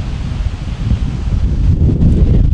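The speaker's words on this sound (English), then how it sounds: "it is a bit windy" Steady wind buffets the microphone outdoors at Kilmartin Glen, an open archaeological site in Scotland, a continuous low rumble that swells slightly toward the end with no voices.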